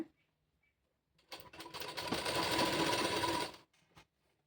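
A foot-pedal sewing machine, not motor-driven, stitches a folded saree border in a single close burst of about two seconds, rising from quiet into a rapid, even mechanical whir before stopping with a soft click.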